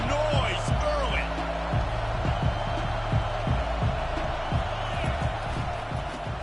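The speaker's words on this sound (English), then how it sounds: "This crowd bringing the energy and noise early." Stadium crowd at a college football game between Alabama and Oregon, a steady dense roar of many voices filling the whole stretch, with scattered thumps and a commentator-like voice under the din.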